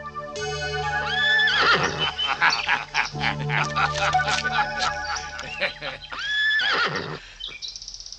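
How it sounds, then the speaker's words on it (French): Cartoon horses whinny in high, shrill bursts, the loudest near the start and again near the end, with voices talking over a steady background throughout. "C'était bien des chevaux, regarde."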